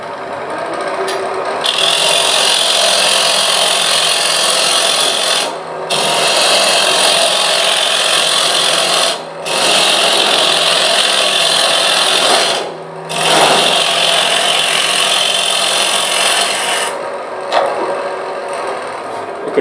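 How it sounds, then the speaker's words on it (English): A parting tool cuts into a spinning wooden vessel on a wood lathe, giving a loud, continuous close-up hiss and rasp that breaks off briefly three times before going on, with no speech. "I also need it long enough I can get a parting tool in behind it and part it off"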